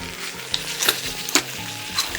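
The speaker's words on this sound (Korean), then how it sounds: "자, 이제 고기를 다 볶았으니까요" Pork shreds being stir-fried in thick black bean sauce for jingjiang pork in a wok, with a steady close sizzle and repeated spatula scrapes and clinks, no talking.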